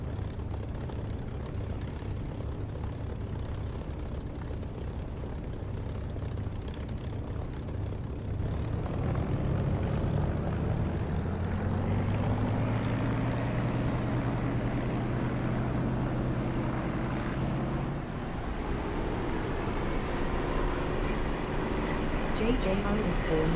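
Aircraft engine spooling up for takeoff in a flight simulator game such as DCS or War Thunder, a steady drone that rises and swells midway, with someone talking over it.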